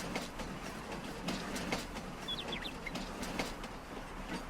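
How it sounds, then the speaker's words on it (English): Train rolling past a farm in Farming Simulator 19, a steady broadband rumble with rhythmic clickety-clack of wagons over rails, with faint bird chirps in the background. "A train at the farm."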